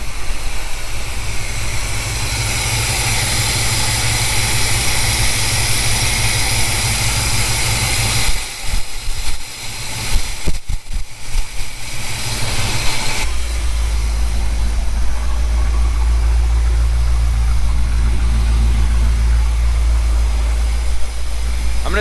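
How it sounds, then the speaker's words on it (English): Steady, loud idle of a 1977 C3 Corvette L82 Chevy 350 V8 with a carburetor, heard close up with a deep continuous rumble, a brief uneven dip partway through, then a heavier low drone. "it's already idling lower, and throttle response is much better with those back barrels whipping open"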